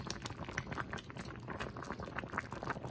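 Dumplings boil in a pot with a continuous, quiet, close bubbling and popping of simmering water.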